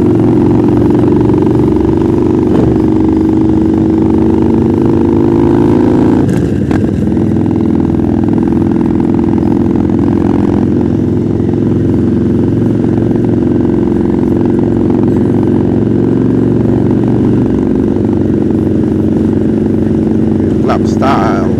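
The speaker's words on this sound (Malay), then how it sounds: "Inilah motor member aku yang baru keluar bengkel dia buat full airbrush." A club-style custom motorcycle with full airbrush paint, fresh out of the workshop, idles with a loud steady low rumble and a brief rev around the middle, while people talk nearby over the engine.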